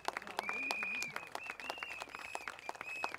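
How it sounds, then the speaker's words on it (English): Crowd applause at an outdoor Reform Party general election rally at a Singapore stadium, steady clapping across the whole stretch with a sustained whistle-like tone and some shouts mixed in. "Andy, Kenneth, Dorina, and Darren, give them your applause."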